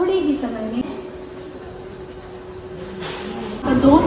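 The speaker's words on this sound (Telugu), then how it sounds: "ట్రైన్ అయితే వచ్చేసింది" A train arriving at a Mumbai station rumbles along with a steady mechanical drone and brief squeals, while people talk nearby over the noise.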